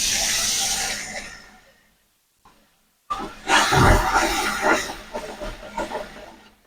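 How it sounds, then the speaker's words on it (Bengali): A little water poured onto broiler chicken masala in a hot pan: a loud hiss that fades out into a short silence, then a bursting sizzle and bubbling that settles to a continuous fry. "এখন সামান্য পরিমাণ পানি দিয়ে দেব।"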